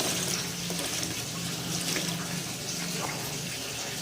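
Ordinary tap water from a faucet rinsing a container clean, a steady close splashing stream running throughout without a break.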